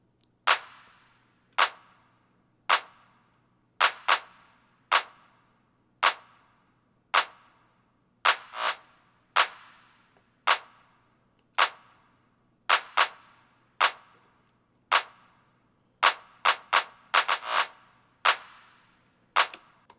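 Layered drum samples in an FL Studio G-funk beat, with one hit drenched in big reverb: a steady pattern of sharp percussive strikes, roughly two per second, each with a bright crack and a short decaying tail, played alone without talk.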